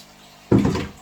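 Treated water poured into a 40-litre fish tank, a sudden close gush that starts abruptly and swells, then fades within a second over a quiet room.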